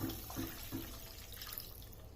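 A cup of water poured into a hot pan of lightly sautéed mixture while making moong dal vadas, a steady close splashing pour that runs for about two seconds.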